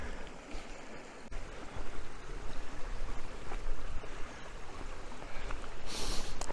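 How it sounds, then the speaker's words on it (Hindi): A stream rushes and burbles continuously at Grey Mare's Tail near Loch Skeen, Scotland, close by and fairly loud, with no voices. "थोड़ा सा पानी का शोर कम हो गया, लेकिन अभी बहुत खूबसूरत है।"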